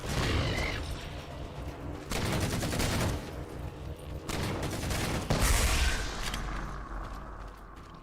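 Battle rifle gunfire in Halo 4 combat, heard as a loud, dense run of sustained gunshot bursts with booming impacts across the whole stretch, broken by short gaps.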